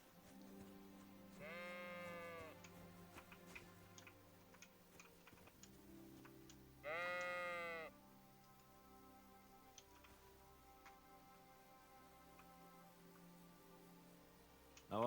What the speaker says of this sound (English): Which one of you is the sheep I'm looking for?